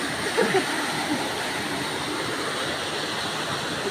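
Steady, close roar of a waterfall in Tagkawayan, rushing water pouring without pause, with a few faint voices briefly near the start.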